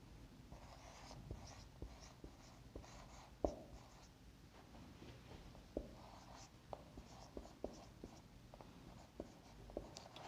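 Writing on a board during a physics lesson on torque: steady scratchy strokes with sharp taps at intervals, fairly quiet, with no talking.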